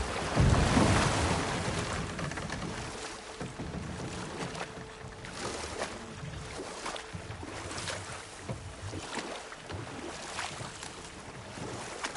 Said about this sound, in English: Waterfall. We're close.